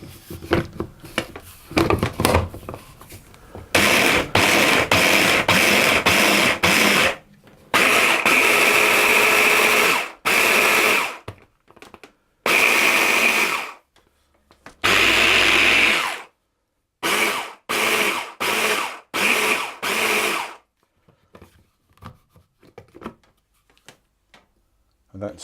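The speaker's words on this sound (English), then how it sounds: "I want to pulse this until it's turned into a type of fine breadcrumbs" A food processor pulses pine nut and sesame seed cookie ingredients into fine crumbs, a loud motor whirring in short repeated bursts of varying length, separated by brief silences, close by.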